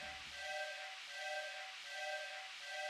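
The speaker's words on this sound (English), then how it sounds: "I love the steam engine sound that's being made here." Steam engine sound in the video game Tales of Symphonia: a steady hiss with a pulsing, whistle-like tone that repeats in a slow even rhythm, with no talk over it.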